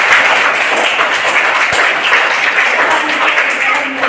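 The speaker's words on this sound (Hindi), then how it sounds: "तालियां बजाओ एक बार" Steady, dense clapping from children in a school classroom fills the whole stretch at close range, with voices mixed into the noise.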